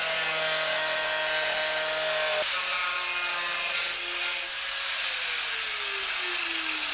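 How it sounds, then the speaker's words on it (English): A power tool cuts rusty steel edges from the outer skin of a camper van bonnet, a loud sustained whining grind with a pitch that drops partway through, continuous and close with no voices. "So I cut away the rusty edges of the outer skin."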